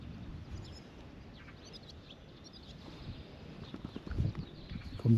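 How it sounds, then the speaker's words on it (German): A horse walks past on a country route in Poland, its hooves clip-clopping softly at first and growing louder and closer toward the end, with faint birdsong in the background. "Kommt noch ein Pferd."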